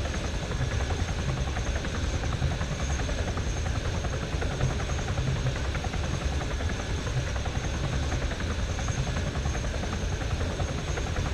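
Helicopter rotor and engine in a combat video game, a steady loud whirring drone with constant low thumping that holds unbroken throughout, with no voices over it.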